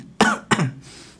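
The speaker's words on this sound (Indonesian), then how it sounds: "Gak apa-apa, cuman batuk doang." A person coughs and clears their throat in two sharp, close bursts, followed by a quiet room tone.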